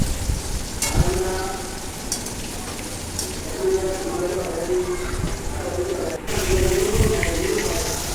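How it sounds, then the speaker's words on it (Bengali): Green bananas frying in oil give a continuous, fairly loud sizzle close by, mixed with stirring clatter. Faint voices and bird calls can be heard in the background. "এরপর আমি এখানে কাঁচকলাগুলো ভেজে নিচ্ছি।"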